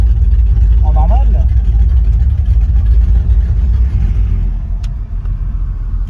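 A loud dragster-style car with an open exhaust rumbles close by, its deep engine roar heavy and sustained before easing off slightly near the end, with a brief voice over it.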